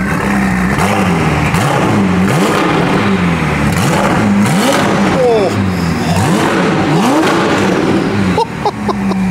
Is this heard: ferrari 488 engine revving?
yes